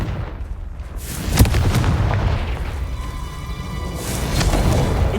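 A Confringo blasting spell exploding in Hogwarts Legacy, a heavy boom followed by a rumbling roar and crackling debris that stays loud throughout.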